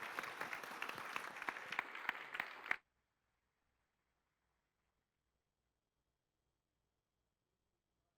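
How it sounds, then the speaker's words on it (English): A conference audience claps for a panel of speakers, dense and fairly loud for nearly three seconds before cutting off abruptly into near silence. "Please give them a huge round of applause."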